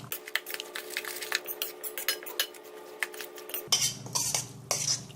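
A spoon stirs tomato salsa with lemon juice and olive oil in a bowl, making a steady run of light clinks and scrapes that grows busier and louder near the end.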